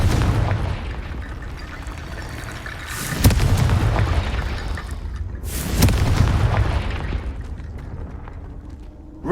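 In Hogwarts Legacy, the Confringo fire spell detonates in two deep, booming blasts a few seconds apart, each swelling out of a low rumbling game soundscape and fading away.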